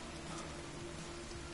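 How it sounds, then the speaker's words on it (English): Rain falls steadily in The Forest video game, a quiet even hiss of drops on the ground with a low hum beneath it, unbroken and without voices. "And now it's raining."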